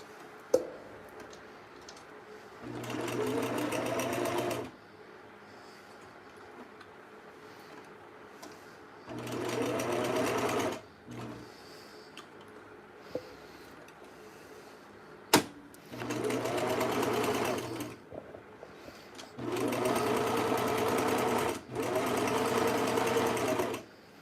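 A sewing machine stitching with dark thread, running in five distinct bursts of several seconds each, separated by quiet pauses with small clicks and handling noises, close and moderately loud.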